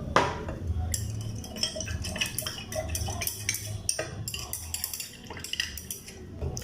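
A utensil stirring serum into a hyaluronic acid and vegetable glycerin mix gives off steady, quiet clinks and light scraping against a container, with soft wet stirring sounds between them, close by and with no voices.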